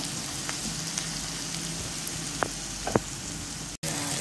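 Onion and garlic sautéing in a pan, a continuous broadband sizzle and crackle with a few sharper pops scattered through, steady and fairly close, no voices.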